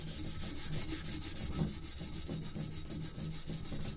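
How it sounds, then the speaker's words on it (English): A brush steadily scrubs rusty metal pinball machine legs, with a fast, even back-and-forth rasp repeating close and loud throughout and no pauses. "so just kind of scrub it on there."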